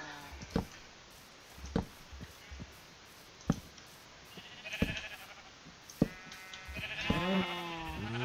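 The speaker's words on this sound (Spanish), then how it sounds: "Hay una oveja bailando el breakdance." Sheep in the video game Minecraft bleat several times in short, quavering calls, mixed with soft clicks of gameplay and a brief voice nearby.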